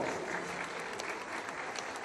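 Sustained applause from the audience at a Huasteco huapango dance contest in Las Joyas, Querétaro, greeting a finalist dance couple; dense, steady clapping fills the whole stretch at an even level.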